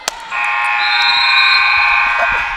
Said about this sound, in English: right at the buzzer, indicating that we are just there, starting the halftime